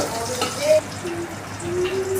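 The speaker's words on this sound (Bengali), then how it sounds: "এখন পানি দিয়ে দিব" Water goes into a pan of frying onions and green chillies, a brief close hiss and sizzle with a rising bubbling tone that settles into a steady simmer.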